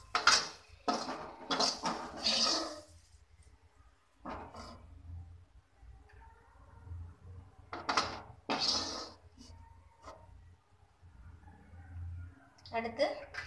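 Fried onions are moved onto another plate. Metal utensils scrape and clatter against dishes in several sharp bursts, loud and close, with quieter gaps between them.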